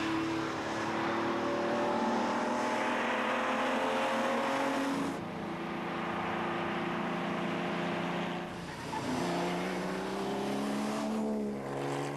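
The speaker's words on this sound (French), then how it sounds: "Avec Koenig au volant, cette Porsche terminera 4e de la spéciale derrière Mackerlin, Belm et Pescarolo" Porsche rally car on a special stage of the 1997 Tour Auto, heard as engine roars that rise and fall through gear changes and passes, fairly loud and steady with no speech.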